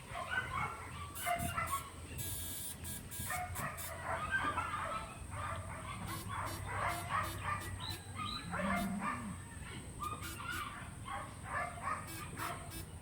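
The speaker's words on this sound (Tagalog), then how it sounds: "May ingay yung mga aso doon mga idol." Several dogs in a neighborhood in Bacolod City bark and yip repeatedly from a distance, faint and scattered, with a voice occasionally heard nearby.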